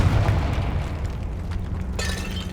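A Confringo blasting spell detonates in the Hogwarts Legacy video game, a heavy rumbling boom that holds steady, then gives way to a brighter crackling burst near the end.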